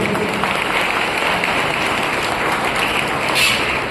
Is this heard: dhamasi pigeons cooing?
no